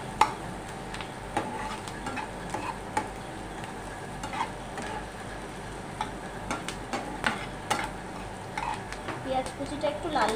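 Chopped onion fries in oil for a pointed gourd (potol) dish, a steady sizzle close up with frequent scrapes and taps of a spoon stirring in the pan, while someone talks over it.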